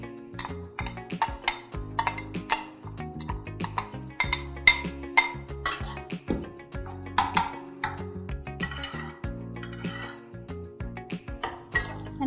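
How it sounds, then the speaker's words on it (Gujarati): Amaranth flour is stirred and roasted in ghee in a pan, 125 grams of each. A metal spoon gives frequent close clinks and scrapes against the pan in an uneven rhythm, with no voices. "પ્રોપર શેકાવા, બ્રાઉન થાય ત્યાં સુધી આપણે શેકવા દેવાનો છે."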